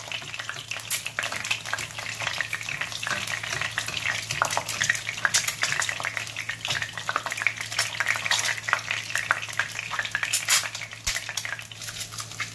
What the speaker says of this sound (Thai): นี่นะครับทอด